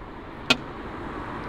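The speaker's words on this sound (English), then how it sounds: "I think it's a Eurofighter starter switch, something like that, and it makes a great noise." A single sharp click of a Eurofighter-style starter switch on a Morgan 3 Wheeler, close and brief, followed by a quiet steady hum of the idle car.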